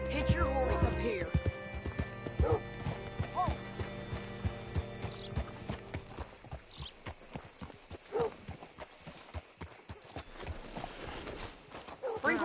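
Horse hooves clip-clopping in a video game, a steady run of distinct hoof strikes with a short whinny, under and between bursts of game dialogue.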